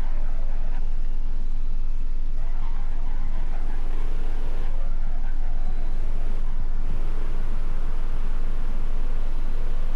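A car drifting in a video game, with a loud, steady roar of engine and tire noise that continues without a break for the whole stretch.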